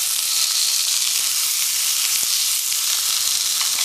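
Emu and kangaroo meat sizzling on a homemade survival stove, loud and continuous close-up frying hiss with occasional soft pops, no voices.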